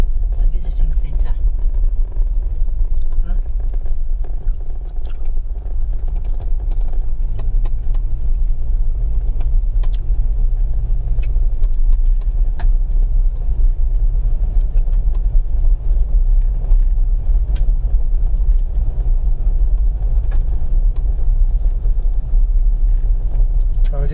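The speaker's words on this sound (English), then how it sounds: "It's a medium off-road car at the moment." A medium Jeep off-road car drives steadily along a coastal road near wind turbines, its engine and road rumble loud and continuous throughout, with people talking inside the car.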